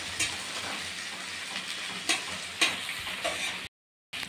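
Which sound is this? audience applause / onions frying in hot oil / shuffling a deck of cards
onions frying in hot oil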